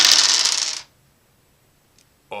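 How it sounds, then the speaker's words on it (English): Ten dice rolled out onto a table, a close, bright rattling clatter for under a second, then silence broken by a tiny tap and a final short clatter. "I have 10 dice here, and I'm gonna roll them out on the table"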